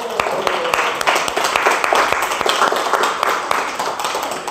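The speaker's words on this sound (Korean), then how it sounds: "우리 아이들한테 박수 한번 쳐주시다." A church congregation claps for the children, with scattered, sharp, close hand claps forming uneven applause under some faint voices.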